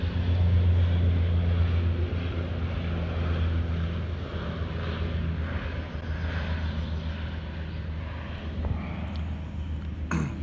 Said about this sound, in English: always a double-decker is flying above our head, makes noise